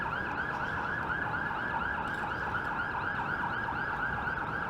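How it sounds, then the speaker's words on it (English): An emergency vehicle siren wails on a Toronto city street, a steady repeating rise-and-fall cycle heard clearly at moderate distance over low traffic rumble, with no talk. "It's appropriate that there's a flashing siren."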